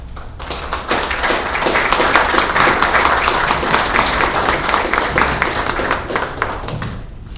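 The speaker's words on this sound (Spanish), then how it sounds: "el doctor Miguel Ángel Rodríguez Raquel, así que pido un fuerte aplauso" Loud, dense audience applause at a 2019 conference, sustained clapping from a full room that swells quickly, holds steady for several seconds and begins to thin near the end.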